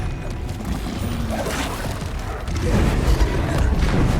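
The Bombarda blast spell in Hogwarts Legacy goes off as a heavy booming impact, a thudding crash that swells near the end, loud and close with no talk.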